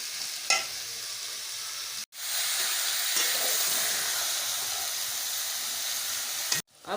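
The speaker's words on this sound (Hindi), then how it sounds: "ये शलजम डाल दी हमने। आप थोड़ी देर इसको भूनना है भी।" Turnip pieces fry in a pan with a continuous hissing sizzle, close and fairly loud, interrupted twice by brief cuts to silence, and a light clatter of stirring near the start.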